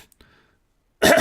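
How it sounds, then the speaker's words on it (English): A man clears his throat in one short, harsh burst right at the end, after a near-silent pause. "I gotta clear my throat here"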